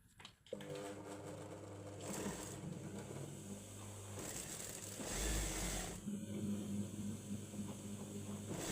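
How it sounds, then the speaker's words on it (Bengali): Sewing machine stitching the side seam of palazzo pants, heard as a close, steady mechanical whir that runs almost the whole time, swelling and easing slightly as the stitching speed changes. "প্রথমে আমি হাইয়ের সাইডটি সেলাই করে নিব"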